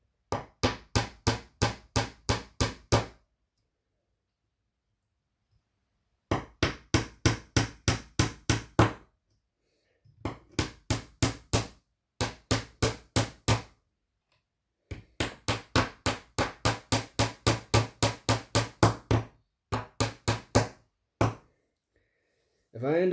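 Hammering nails into JTElectric split model railway rail joiners: steady runs of rapid, close, crisp taps in several bursts separated by pauses, with no talking.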